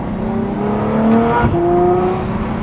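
A Ferrari F12 V12 engine revs close by, a strong harmonic tone climbing in pitch, dipping briefly, then rising again into a sustained high howl.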